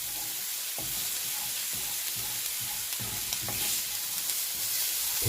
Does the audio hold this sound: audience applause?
no